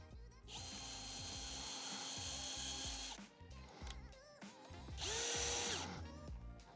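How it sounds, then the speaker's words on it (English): A power drill whines loudly as it bores a hole with a self-tapping 4mm bit, running in a long sustained burst, pausing briefly with some clattering, then spinning up again for a second shorter burst. "So we've used this self-tapper to bore that hole out."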